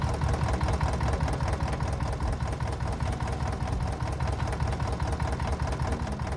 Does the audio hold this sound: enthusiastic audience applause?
no